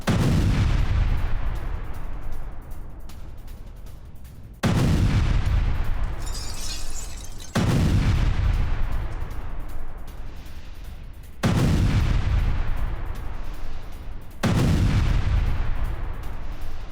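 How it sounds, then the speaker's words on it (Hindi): Heavy bombardment and gunfire during an attack on Idlib, Syria: five loud, booming blasts spaced a few seconds apart, each followed by a long rumbling decay, with no voices. "विद्रोहियों के हेडक्वार्टर पर विनाशक बमबारी हुई है"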